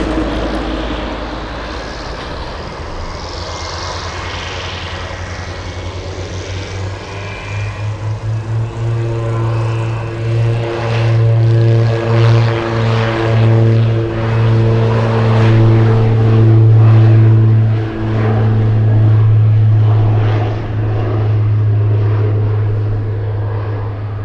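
A DC-10 jet takes off from runway 15 at Anchorage airport in windy conditions, its engines building from a low rumble to a loud, sustained roar with rising whining tones that hold steady near the end.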